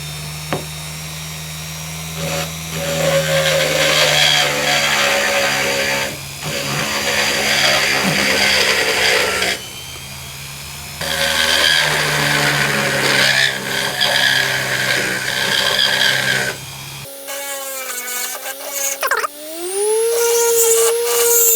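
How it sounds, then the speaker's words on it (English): An Abest mini grinder with a flexible shaft and woodworking bit carves into worm-damaged wood, starting at minimum speed, giving a loud, steady buzzing whine in long bursts with short pauses and a pitch rise near the end. "I'm just going to demonstrate this particular woodworking bit. So we'll start off on the minimum speed."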